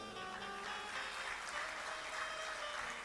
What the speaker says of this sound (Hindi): आज तो आप बड़ी जोर से तालियां बजा रहे हैं।